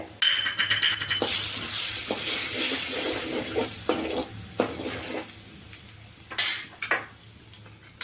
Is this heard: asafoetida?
yes